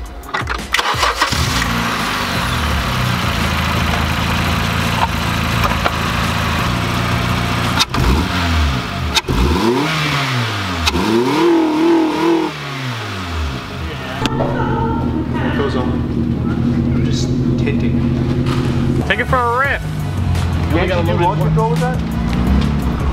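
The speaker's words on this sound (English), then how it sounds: "first start up with the intake arm" Chevrolet Camaro SS V8 engine with a newly fitted intake starts up close by and revs repeatedly, its pitch rising and falling in several sweeps before settling to idle, with people talking over it.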